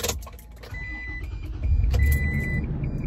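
A Toyota Tacoma engine cold-starts, cranking and catching, settling into a low idle, while electronic beeps chime intermittently over it.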